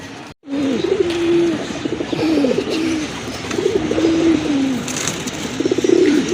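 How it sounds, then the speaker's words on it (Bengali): A male pigeon among caged pigeons for sale, repeated low throaty coos rolling in close, steady phrases over faint background noise. "এটা হচ্ছে নর কবুতর"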